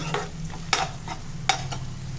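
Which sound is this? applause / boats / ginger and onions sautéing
ginger and onions sautéing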